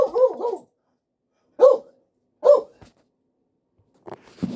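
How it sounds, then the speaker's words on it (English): A dog barks close by: a double bark, then two single barks with pauses between, followed by a faint whine and rustle. "sorry about the dog barking."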